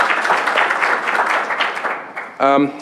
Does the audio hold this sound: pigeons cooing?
no